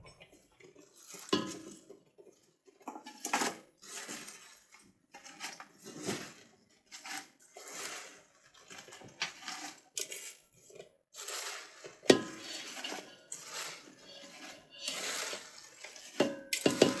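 Washed mustard greens are poured into a cooking pot and stirred, with clattering metal, rustling leaves and scraping utensil sounds in irregular bursts at close range.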